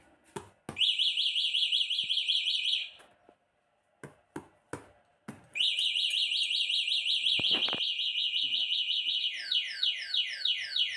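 A Y1S e-bike's loud electronic alarm siren warbles in long bursts, broken by sharp clacking knocks, then shifts to a faster sweeping wail near the end.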